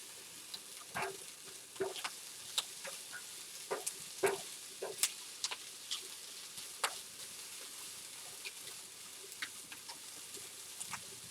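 Food sizzles and crackles steadily in a pan, with scattered sharp pops and occasional scraping stirs, close and fairly quiet.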